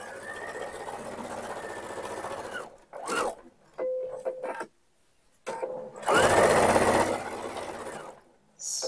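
Sewing machine stitching side pocket pieces together for homemade men's shorts, a close mechanical whirring hum in several runs of a few seconds each, separated by short pauses and handling noises.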